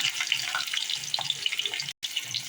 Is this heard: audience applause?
no